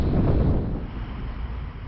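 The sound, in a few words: wind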